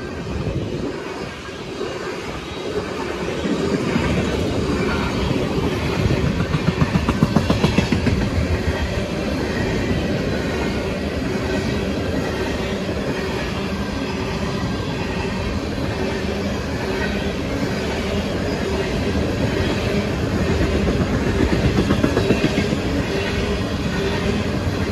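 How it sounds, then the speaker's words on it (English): A long ethanol freight train rolls past close by, with a continuous heavy rumble and rhythmic clickety-clack of wheels over rail joints, steady throughout. "There's the end of the ethanol train"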